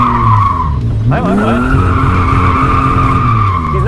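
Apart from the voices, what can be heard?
car accelerating and skidding around a traffic cone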